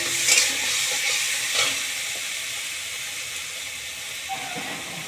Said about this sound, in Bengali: আর দিয়ে দিলাম টমেটো। টমেটো গ্রেট করে নিয়েছিলাম একটু